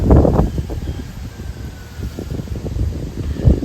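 Wind gusting outdoors during bow drilling, buffeting the microphone in loud rumbling bursts that ease and swell again over several seconds.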